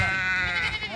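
Sheep and goats bleat up close in one continuous wavering cry that fills the moment.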